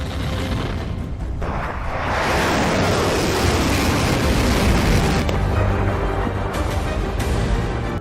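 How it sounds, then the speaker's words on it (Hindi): Explosions from missile strikes on tanks and weapon systems, including Leopard 2 and Challenger tanks, HIMARS rockets and Patriot systems, roll out as a long, loud, dense rumbling blast that sustains for several seconds. "नाटो के leopard 2 tank, challenger tank, HIMARS rocket और पैट्रियट मिसाइल सिस्टम को धमाकों के साथ उड़ाया जा रहा है।"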